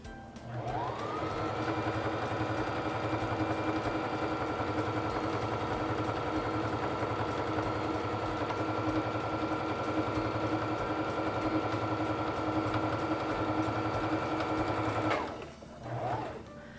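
A Singer Fashion Mate 3342 sewing machine stitches a buttonhole, a steady close motor whir with rapid needle chatter running evenly for about fifteen seconds before stopping, followed by a brief faint clatter.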